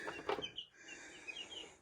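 Young chickens in a crate give soft, high clucks and chirps, several short calls close together and fairly faint, with no talking.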